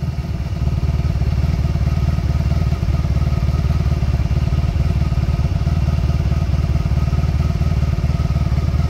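1997 Honda Magna motorcycle engine held at high revs, a loud, dense, continuous buzzing roar that stays steady for the whole stretch, recorded close up with no talking.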